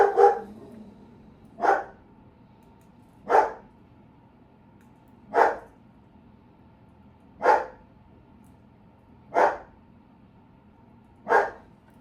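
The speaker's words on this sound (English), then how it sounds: "there goes the dog again" A dog barks seven times in a slow, evenly spaced series, each bark short and fairly clear against a quiet room.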